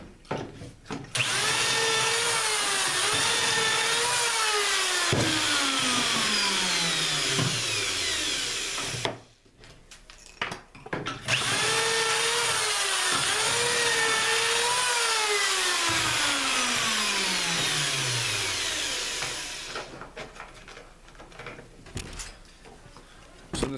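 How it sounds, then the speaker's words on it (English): Two long, loud drill runs bore pocket holes in wood for cabinet building, each a sustained whine that rises to full speed, holds, then winds down, separated by a brief pause. "I'll drill a couple holes and I'll show you kind of how it's gonna go in."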